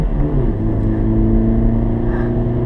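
A 2017 Ford KA+ accelerates hard on a track, its engine droning loudly and steadily with rising harmonic pitch, close and continuous throughout with no talking.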